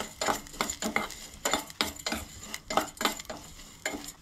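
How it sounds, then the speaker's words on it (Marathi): Vermicelli roasting in ghee, stirred with a utensil in a pan: a steady run of rhythmic scraping strokes, about two per second, with a soft sizzle underneath, close and clear with no talking. "शेवया आमच्या न्हय तुपान पयलीं बरें फुलोवन घेऊया"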